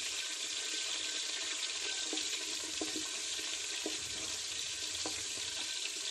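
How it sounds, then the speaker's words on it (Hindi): Ginger garlic paste frying in hot oil for masala mash daal, a steady, fairly faint, hissing sizzle with scattered small pops and spits, heard close and alone. "ये जो अदरक लहसुन का पेस्ट है अच्छे से फ्राई हो गया है।"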